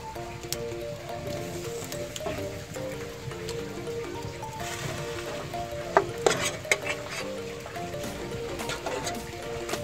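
Jamaican jerk pork seasoned with Walkerswood jerk seasoning sizzles steadily over a blazing coal fire, a close, even crackle and hiss with a few sharper pops, with no talking.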